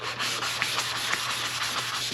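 A BMW X5 headlight lens is wet sanded by hand with 400 grit sandpaper, a steady close scratchy rubbing with quick back-and-forth strokes and a faint underlying hum.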